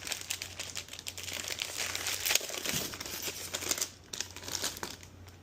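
A plastic bag crinkles and rustles close by during the unboxing of a SteelSeries Apex Pro keyboard, with continuous irregular crackling, a brief dip, then more handling noise.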